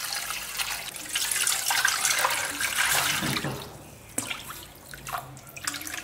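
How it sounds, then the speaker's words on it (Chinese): Water is poured from a tap into a hot pot in a home kitchen, a continuous rushing, splashing stream that fades into lighter trickles and drips toward the end. "直接加水。"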